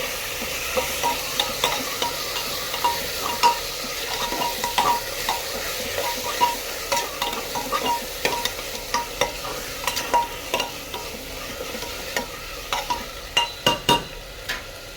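Egg biryani ingredients frying in a pan, stirred with a utensil that gives repeated close scraping taps against the pan over a continuous soft sizzle; no talking.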